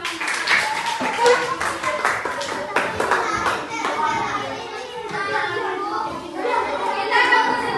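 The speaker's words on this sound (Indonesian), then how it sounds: "Oke, tepuk tangan semuanya." Schoolchildren in a classroom clap their hands in a busy, overlapping burst while kids chatter and call out over the clapping throughout.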